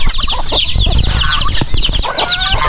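Turkeys clucking and chattering together in a busy, continuous flurry, close by, with scattered higher calls over a low rumble.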